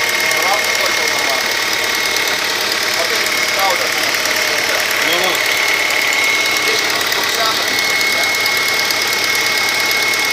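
A replacement 2.0 16v engine in an Opel Vectra B runs steadily at idle with an even, close mechanical drone and a light rattle, with people talking over it.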